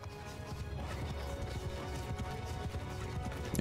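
Horses gallop in the medieval battle game Mount & Blade II: Bannerlord, a steady dense drumming of hooves across the whole stretch, with battle din and a sharp crash near the end.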